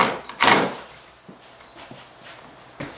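A door is taken off its frame indoors during a house renovation, with one sharp wooden knock near the start followed by soft thuds, light footsteps and scuffs as it is carried.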